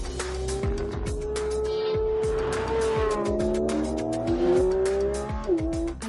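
A Porsche 911 GT3 with a big rear wing laps a race track, its engine note rising and falling steadily through gear changes, with brief tyre squeal, loud and close throughout.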